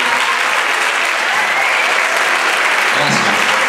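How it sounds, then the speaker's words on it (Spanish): An audience at a school rondalla concert in an institute auditorium claps steadily and loudly, a dense, continuous wash of applause with no break. "por favor, un fuertísimo aplauso."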